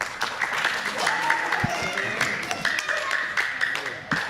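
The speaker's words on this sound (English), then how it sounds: "We just clap for that." An audience claps steadily in a dense patter, with voices and cheering mixed in throughout.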